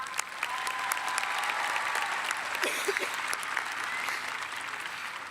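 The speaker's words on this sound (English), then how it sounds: "Let's give them all a big round of applause." Sustained applause from a high school graduation audience, dense clapping that holds steady and fairly loud throughout.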